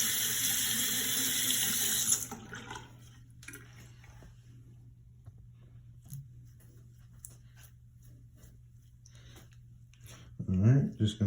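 A tap runs into a sink for about two seconds as a brush carrying Jason Markk shoe cleaner solution is rinsed. Quiet scrubbing and handling noises follow, then a brief gurgling swirl of water near the end.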